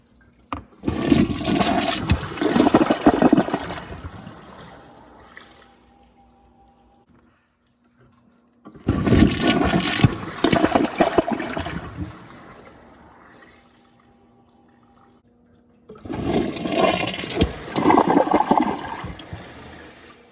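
A 2015 American Standard Champion 4 Max toilet flushes three times in a row, each a loud rushing whoosh of water lasting several seconds before trailing off into a quieter refill trickle, with brief silences between flushes.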